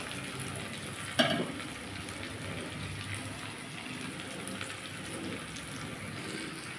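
Potatoes and string beans frying in a pan make a faint, continuous sizzle with a single short clack early on, steady to the end.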